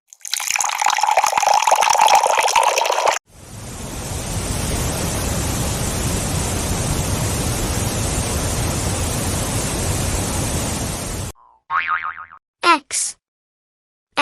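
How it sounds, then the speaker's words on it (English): Water in a children's alphabet lesson: a steady broadband rush like pouring or running water fills about eight seconds, loud and continuous, preceded by a bright musical jingle and followed by short boing-like tones. "W for water."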